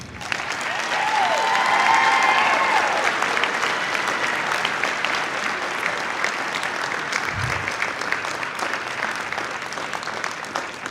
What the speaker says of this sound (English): Let's hear a round of applause for the Napa team.